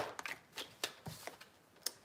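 Tarot cards being shuffled by hand in a series of crisp riffling bursts and soft slaps, close and fairly quiet, with short pauses between them.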